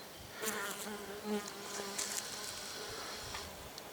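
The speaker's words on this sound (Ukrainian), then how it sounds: "бджоли її знаходять. Ось одна збирає прополюс." Steady close buzzing of bees at a hive log with occasional louder passes as individual insects fly near, over a constant insect drone.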